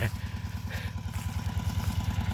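A six-horsepower water pump engine runs steadily nearby while it pumps water onto a rice field, its low, even putter chugging on without pause.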